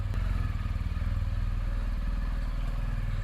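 A motorcycle engine idles and pulls away for a short ride during lockdown, its steady low throb loud and close with a rhythmic pulsing clatter throughout, no talk.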